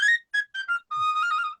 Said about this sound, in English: it's a penny whistle. The brand is Susato. It's an Irish whistle.